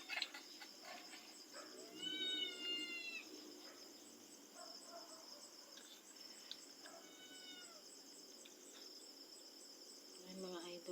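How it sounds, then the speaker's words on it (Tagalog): A pet cat meows quietly at an outdoor fish grill, giving a few short rising calls that are faint against steady insect and cricket chirping. No one speaks. "Sabay pa namin yung aming alagang pusa dito."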